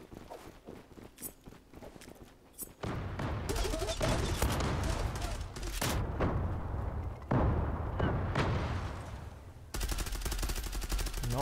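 Rapid bursts of loud gunfire in an esports video game match, continuous heavy shooting from about three seconds onward after a quieter start with light footsteps, with no talking.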